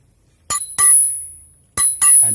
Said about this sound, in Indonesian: bel yang mungkin di sepeda lain nggak ada